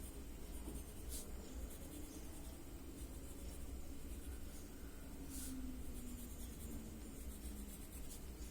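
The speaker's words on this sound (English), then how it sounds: "slowly go around each of these shapes, adding the little mark from your pencil." A pencil makes small marks on a Zentangle drawing tile, giving faint, soft scratching strokes in irregular short bursts over a quiet background hiss.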